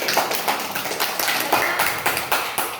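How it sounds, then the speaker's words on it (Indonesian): Classmates in a sixth-grade Quran recitation lesson clap together after a presentation. The claps come as a light, quick, slightly uneven patter of close taps, with no voices over them. "Kita kasih tepuk tangan."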